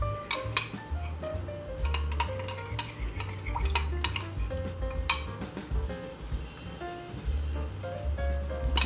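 A spoon spreading butter over bread dough for cinnamon raisin bread, giving repeated scraping and soft clinking strokes against a dish at close range, steady and busy throughout.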